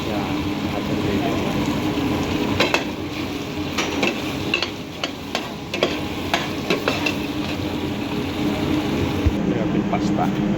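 Pasta stirred and tossed in a frying pan over a steady sizzle, with spatula scrapes and taps against the pan at an uneven pace, close by, while a voice talks at points.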